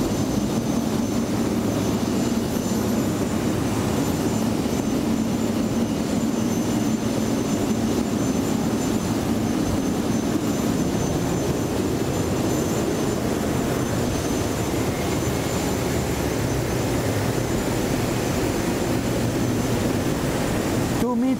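Airbus A380 engine noise on the ground during an external walkaround, a steady, loud broadband roar and whine that holds unchanged throughout.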